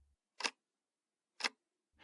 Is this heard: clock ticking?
yes